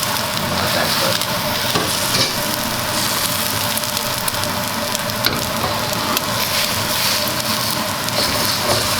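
Eggs cooking in a hot pan beside pork and onions for pork fried rice, a steady close sizzle and frying hiss that continues without a break and without voices.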